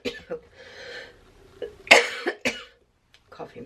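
A person coughs in a run of several harsh, raspy bursts close by, with short pauses and throat noises between them.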